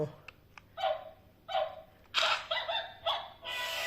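A toy robot dog's bark button sets off a series of short electronic yaps in quick bursts, close and fairly clear, with someone talking between them.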